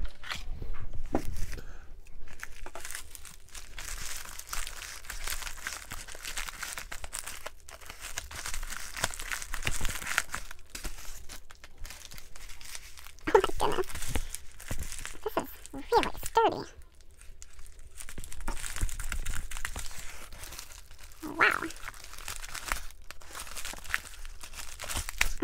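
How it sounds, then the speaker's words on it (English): Paper crinkles and tears in bursts as a stiff envelope is worked open up close, with occasional soft speech. "That was hard to open. That is one sturdy envelope."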